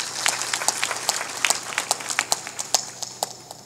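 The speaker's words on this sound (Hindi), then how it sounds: "ताली बजाओ इनके लिए" An audience at a religious discourse gives applause to a saint, sharp individual claps scattered across the room rising and falling in a loose patter without speech.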